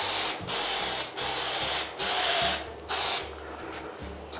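A spray can of quick-drying lacquer-based paint sprayed over a water stain, in five short hissing bursts separated by brief pauses, close and loud.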